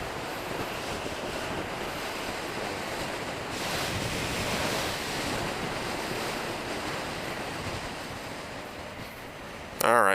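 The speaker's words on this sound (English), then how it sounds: "It's just too windy, too much wind coming inside the visor." Loud, steady wind roar buffets the inside of a motorcycle helmet through a visor cracked open one slit, a continuous broadband rush at riding speed, with a brief louder burst at the very end.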